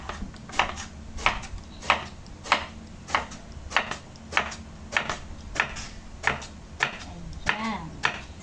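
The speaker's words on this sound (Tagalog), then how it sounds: "Hiwa-hiwa tayo," Knife slicing eggplant on a cutting board, a steady series of about fourteen crisp, evenly spaced chops close up, with a faint voice near the end.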